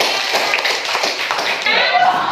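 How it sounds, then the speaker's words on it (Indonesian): Students in a classroom clap for a presenting group, a short burst of scattered handclaps and taps with some voices mixed in. "Kita beri tepuk tangan untuk"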